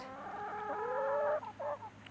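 Chickens clucking close by in a farmyard with ducks around, a steady run of throaty clucks and murmurs rising in a short burst, no talking.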